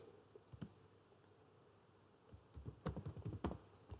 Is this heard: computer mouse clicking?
yes